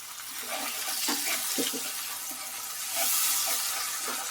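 Splash and trickle of a little water poured into a pan of frying spices, cumin and chili powder, for a Bengali crab curry, a soft continuous hiss with brief louder splashes, no talk.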